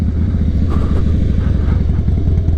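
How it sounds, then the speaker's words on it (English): A 2008 Harley-Davidson Night Train with a 96 cubic inch engine rumbles loud and close in a steady idle, its deep uneven V-twin pulse continuous throughout. "2008 Harley Davidson Nightrain. It's got the 96 cubic inch motor, 6-speed transmission"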